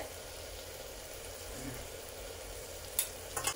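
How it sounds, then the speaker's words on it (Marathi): Ground spices (turmeric, red chili powder, garam masala, coriander powder and misal masala) fry in oil in a pan, making a low, even sizzle heard close, with a couple of sharp clicks near the end and no speech. "मसाले तेलामध्ये छान फ्राय करून घेऊया पहिले"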